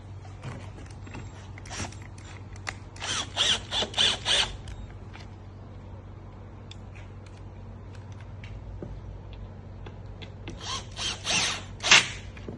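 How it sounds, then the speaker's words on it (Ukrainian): A power screwdriver drives confirmat screws into the panels of a computer desk being assembled, giving two short whirring bursts several seconds apart over a steady low room hum, with light handling clicks in between. "Далі аналогічно прикручуємо іншу стайбу."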